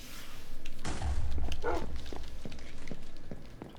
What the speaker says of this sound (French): c'est des loups, c'est ça, c'est de base du jeu